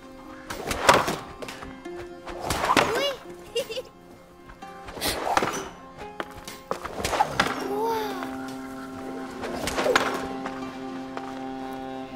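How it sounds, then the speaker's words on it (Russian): Stones fired from a sling at targets in the video game A Plague Tale: Innocence, five or six sharp impact thunks spaced a couple of seconds apart, each ringing out over a low sustained musical drone. "6 камней, 6 выстрелов. Сбей столько мишеней, сколько сможешь."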